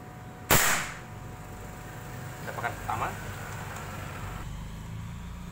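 A Mauser OD32 air rifle fires a single H&N Super Point pellet: one sharp, loud, close crack, followed by quiet room tone with a faint murmur of movement.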